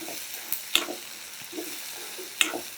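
Onions frying in a pan for Tamil Nadu style majjiga pulusu, a soft steady sizzle with two sharp clinks of a utensil against the pan, close and alone without talk.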